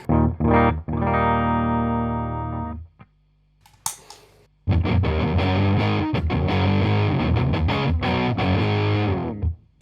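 Fuzzy electric guitar from the bridge humbucker through a Fuzz Face style pedal: a sustained distorted chord, a brief pause with string noise, then thick, gritty riffing with aggressive strums.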